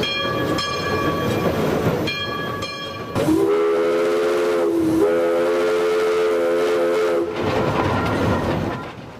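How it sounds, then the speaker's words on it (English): The Durbin Rocket steam locomotive, a West Virginia tourist excursion train, sounds its whistle in long steady blasts over the rumble and clatter of the moving train. "One of the rare steam locomotives in existence"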